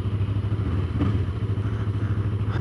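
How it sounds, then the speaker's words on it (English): A Yamaha R3 motorcycle, a 2015 model, runs with a steady low engine drone close by throughout, no voices over it, as the test ride begins. "About to test ride the Yamaha R3."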